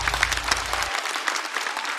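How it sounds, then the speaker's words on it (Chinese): A studio audience at a stand-up comedy show claps steadily and fairly loudly, a dense, even patter of applause with a low hum fading out after the first second. "再次掌声送给2位。"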